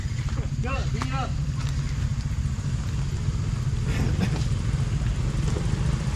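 A motorcycle engine revs hard and steadily close by at full throttle, a continuous rough drone with brief shouts and chatter in the background.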